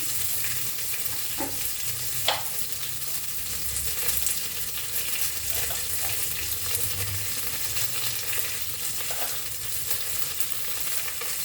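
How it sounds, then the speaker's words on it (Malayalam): Chopped spring onions sizzle steadily in a frying pan with mushrooms and green peas, a constant close hiss broken by light clicks and scrapes of stirring, no voices. "അരിഞ്ഞ് വെച്ച ഗ്രീൻ ഓണിയൻ ഇടുകയാണ്. Spring onion"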